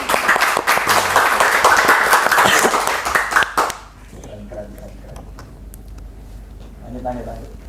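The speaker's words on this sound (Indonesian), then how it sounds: "Kebetulan boleh tepuk tangannya." A podcast audience breaks into dense, close clapping for about four seconds, then it cuts off abruptly and quiet conversation follows.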